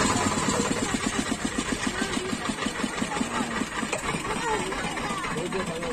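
A boat engine idles steadily at a launch ghat at Mukutmanipur's deer park, a mid-pitched rhythmic chug running continuously and fairly loud close by, with a voice talking over it.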